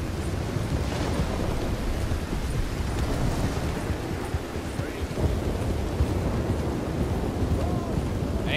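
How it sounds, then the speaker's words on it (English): A Red Dead Redemption 2 thunderstorm, with rain, gusting wind and low rolling thunder forming a dense, constant roar with no clear breaks and no talking. "We're just going to enjoy the storm."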